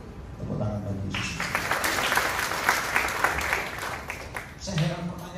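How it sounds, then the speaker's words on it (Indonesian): A church congregation at a Family Blessing Jakarta service breaks into loud, sustained clapping for a few seconds, framed by a voice speaking just before and after. "Tepuk tangan bagi Yesus."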